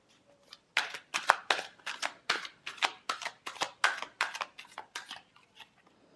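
Tarot cards are shuffled by hand close up, a quick rhythmic series of about a dozen crisp riffling bursts with short pauses between, in an otherwise quiet room.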